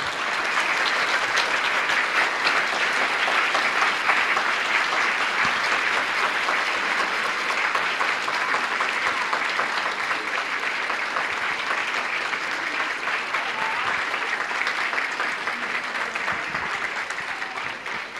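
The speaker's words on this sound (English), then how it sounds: "please give them a round of applause" A patient conference audience gives a round of applause, steady dense clapping from a large crowd that holds for a long stretch, even and continuous with no voices over it.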